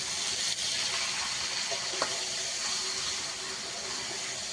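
Spice-marinated meat, about a kilo, sizzling loudly in a pan with lightly browned fried onion and garlic, a dense continuous hiss with a couple of faint utensil knocks.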